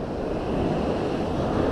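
Surf rolling onto a high beach at a fishing spot after morning rain, a steady close wash of breaking waves with wind buffeting the microphone throughout.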